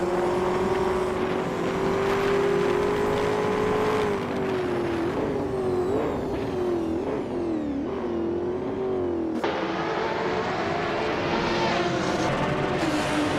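Ferrari F50 GT race car in a racing video game, its engine droning steadily and loud, pitch dipping and climbing through repeated gear shifts and throttle changes with no pause.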